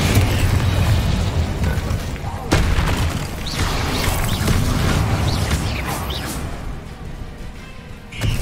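Incendio fire spell blasts in the video game Hogwarts Legacy, loud rumbling bursts of flame and impact amid continuous combat noise, with a sharp crack early on and some faint whooshes.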